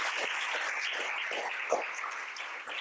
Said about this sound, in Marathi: हे म्हणण्याचं धैर्य दाखवणाऱ्या सर्व मातांना आपण जोरदार टाळ्या देऊया.